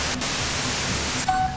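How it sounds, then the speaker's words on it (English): In the Disco Elysium video game, a dense hiss of white noise fills the soundscape steadily and loudly, ending with a faint high tone near the close. "Her voice trails off into white noise in your head."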